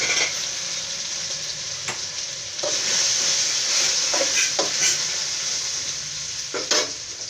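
Taro root pieces fry in hot oil tempering with turmeric, giving a steady loud sizzle and hiss with scattered sharp scraping knocks of a stirring spoon against the pan.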